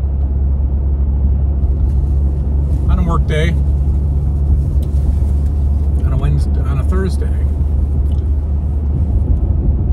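Low, steady rumble inside a moving car on a road, continuous throughout with someone talking over it.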